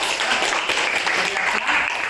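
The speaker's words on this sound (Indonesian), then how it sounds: "tepuk tangan untuk kelompok 4" A classroom audience applauds a student group after their presentation, a steady close patter of many hands clapping, with some voices mixed in.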